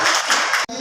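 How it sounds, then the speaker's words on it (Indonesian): Brief burst of audience applause from teachers at an indoor school training session, a dense, steady patter of many hands clapping that cuts off abruptly near the end. "tepuk tangan buat kita semua"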